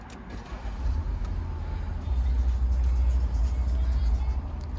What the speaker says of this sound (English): Just come inside the car to start it up.